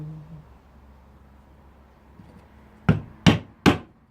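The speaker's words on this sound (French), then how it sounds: "Un ciseau à bois plus large." A wide wood chisel struck with a hammer while shaping a wooden stand for a glass food container, three sharp close knocks in quick succession after a quiet pause.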